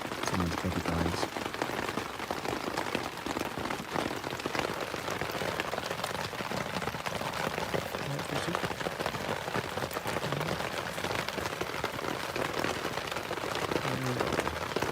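Rain falls steadily on a tent while camping, a dense, even patter of drops that holds throughout, close and moderately loud, with faint voices underneath at moments.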